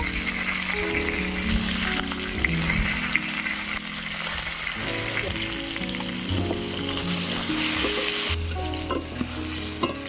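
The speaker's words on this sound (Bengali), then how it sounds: "একটু নুন হলুদ দিয়ে আলুটা ভেজে নেব" Potatoes sizzle loudly in hot oil with salt and turmeric, a constant crackling fry with scraping stirs and clinks of a utensil against the pan.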